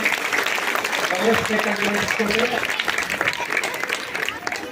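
A crowd at a spiritual discourse gathering in Hunagunda gives loud sustained applause for three honoured achievers, with a voice talking over the clapping.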